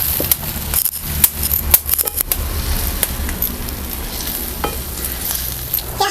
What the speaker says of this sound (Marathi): बारीक चिरलेला कोथिंबीर चांगलंच आपण सगळं एकजीव करून घेऊया